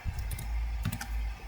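Brief bursts of typing on a computer keyboard, a few quick key clicks close by over a low steady background hum.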